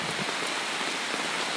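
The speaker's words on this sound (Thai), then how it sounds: "แล้วฝนที่ตกนี้เสียงที่เราได้ยินนี่ก็คือเป็นเสียงของฝนตกนะครับ" Heavy rain falling in Wang Nuea district, Lampang: a dense, even patter and hiss of drops on surfaces, steady and close for a brief stretch with no voices.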